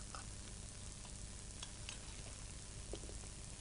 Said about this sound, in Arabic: هنايا فوق النار راني سخنت شوية زبدة، راح ندير لي شامبينيون نسوطيوهم في الزبدة هكذايا